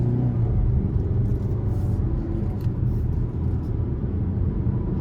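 2023 Hyundai Tucson SEL with a 2.5-liter naturally aspirated four-cylinder and eight-speed automatic, heard from inside while driving as a steady low engine and road rumble, continuous and fairly loud with no talk.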